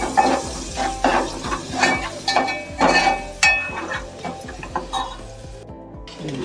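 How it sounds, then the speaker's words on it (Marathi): Chopped onion, added after asafoetida and curry leaves, sizzles in a hot pan while a spoon stirs and scrapes it in steady, repeated strokes, close and fairly loud with occasional metal clinks. "कांदा चांगला भाजून घेऊया."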